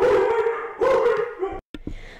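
Dogs bark and howl in the Phantom Forces video game, loud sustained howling tones in two long bursts, then a brief drop to silence and a couple of short sharp barks.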